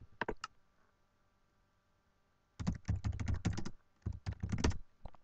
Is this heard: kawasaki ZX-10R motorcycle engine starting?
no